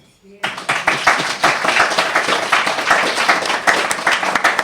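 Audience applause welcoming a panel at a talk on gender, race and identity, a full, sustained burst of clapping that rises quickly and continues steadily throughout.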